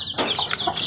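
A mother hen with chicks clucks several times close by in short, quick bursts, with a faint high chick peep at the very start.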